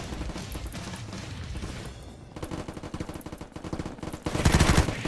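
A gun in the Unturned video game fires in rapid automatic bursts, a dense rattle of sharp shots that pauses briefly and then resumes louder, close and without talk.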